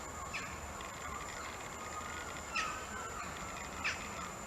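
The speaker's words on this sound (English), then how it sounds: "You can hear the seagulls, I don't know what they're doing up here." Seagulls give a few faint, distant calls over steady outdoor background noise at a woodland wild camp.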